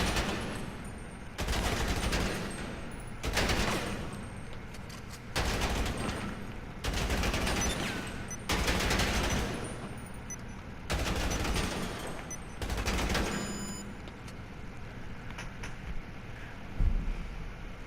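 Repeated bursts of video game gunfire at a GTA Online shooting range, rapid volleys lasting a second or two each, separated by short pauses, loud and close throughout with no talking.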